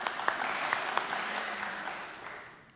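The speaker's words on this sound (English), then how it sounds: "And we would all applaud each other," A crowd at a Grade 12 graduation ceremony applauds with brisk, fairly close clapping and a few sharp individual claps. The sound slowly thins and fades away near the end.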